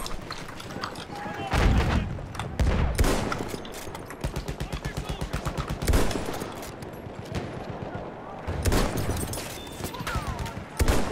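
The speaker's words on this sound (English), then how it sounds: "there's the tank, and it's shooting at us" Combat in Battlefield 1 includes tank fire, with heavy booms and bursts of rapid gunfire coming in rhythmic volleys. Loud, close shots repeat in clusters over continuous battlefield noise.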